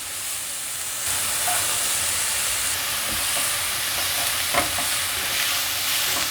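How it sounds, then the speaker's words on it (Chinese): Carrots hit a hot oiled pan with celery and sizzle loudly, a bright steady hiss swelling as they go in, with occasional spatula scrapes and clicks as they are stirred. "现在放入红萝卜"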